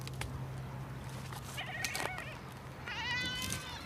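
Two wavering goat bleats, fairly close, rise over a quiet outdoor background on Crete, Greece, one about midway and a second, longer one near the end.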